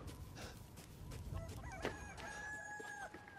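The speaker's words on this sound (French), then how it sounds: "Ah, une poule." Chicken clucking and crowing inside the Resident Evil Village video game, several bird calls repeating over a steady background of game ambience, moderately close.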